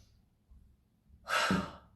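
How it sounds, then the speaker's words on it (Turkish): A deep inhalation through the nose during a relaxation breathing exercise, a soft breath swelling into a fuller, airy draw in the second half, heard alone and close. "burnunuzdan derin bir nefes alın"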